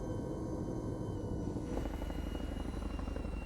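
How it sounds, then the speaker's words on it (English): A Chinook helicopter in a video game gives a loud, continuous rotor thump, and the pulsing grows more distinct partway through. "all out of a Chinook at the same time"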